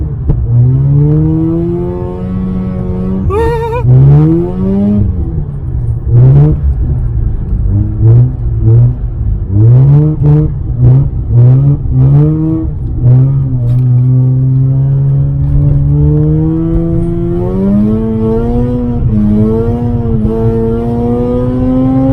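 Mazda RX8 rotary engine revving hard toward 10,000 rpm, loud and close, climbing and falling through a series of sharp rev rises and gear changes with a steady high whine, no voices over it.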